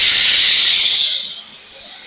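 Onions frying in hot oil for mutton biryani, a loud, bright hiss that holds steady, then eases and fades a little toward the end, close up with no talking.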